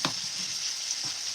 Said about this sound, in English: I don't want to over fry my veg.